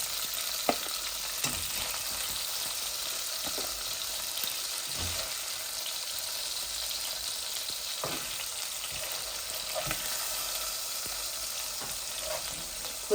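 Hilsa fish frying in a pan, a steady broadband sizzle with occasional soft stirring or spatula clicks, close and continuous with no talking.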